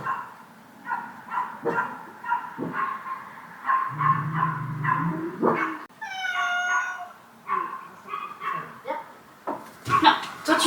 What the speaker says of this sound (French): Je voulais lui montrer le chien qui criait, c'est un petit chien noir